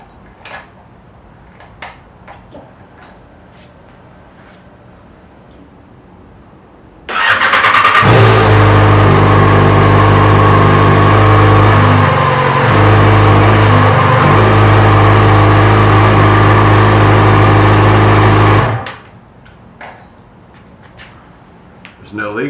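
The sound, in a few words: Yamaha FZ6R motorcycle engine starting and running with swapped exhaust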